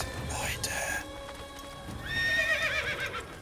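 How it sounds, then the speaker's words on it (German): A horse in the video game Assassin's Creed lets out a high whinny, then a second, longer neigh, with hoof clip-clops and faint background ambience at moderate volume. "Psst, Pferd, sei doch nicht so laut."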